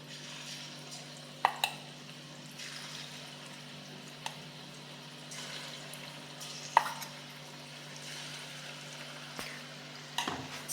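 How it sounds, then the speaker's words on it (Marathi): Coriander and ajwain bhaji fritters fry in oil over medium heat, a steady low bubbling sizzle that runs throughout, with a few sharp clicks and taps of a spoon against the pan. "ही भजी आता आपण छानपैकी गोल्डन ब्राऊन होईपर्यंत छानपैकी तळून घेऊयात"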